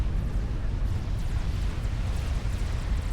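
A deep, rumbling explosion roars through a Supreme Commander match, a dense low-end boom that holds steady and loud for the whole stretch with no voices over it.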